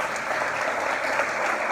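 A church congregation claps together in praise during a communion and deacon ordination service, a dense, even wash of applause sustained for the whole short stretch.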